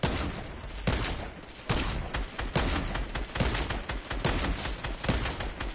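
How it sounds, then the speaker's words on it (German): Gunshots in the Fortnite video game ring out as a string of sharp, loud cracks, a few spaced apart and then a faster volley, with a reverberant tail between shots. "Ich habe 10 Schuss geschossen, keiner davon hat connected."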